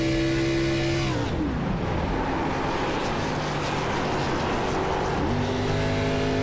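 A race car engine in the iRacing sim at Iowa during a Rush Championship Series race drones loudly, then its pitch sweeps sharply down as the driver lifts off. It holds low for several seconds and climbs again near the end.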